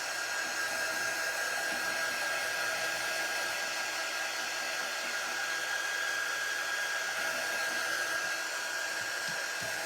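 A hair dryer blows on a painted rabbit artwork, a loud, steady, unbroken whoosh with a constant whine running close throughout.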